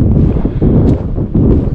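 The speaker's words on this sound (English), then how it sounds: "It's pretty windy." Strong wind buffets the microphone in a steady low roar on a mountain hike toward Croatia's highest peak, with gusts swelling and easing.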